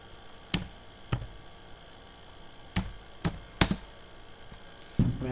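Several separate clicks and taps from keys on a computer keyboard while text is typed into MS Word, spaced unevenly with quiet gaps between them, close by and fairly faint.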